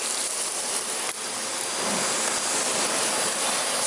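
Loud, continuous whoosh of a Kirby vacuum cleaner running up close, a steady broadband motor and suction roar with a small hitch early on.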